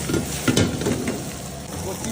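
Mixed rice with mutton and shrimp frying in a hot pan, a steady close sizzle with stirring scrapes running throughout, no speech.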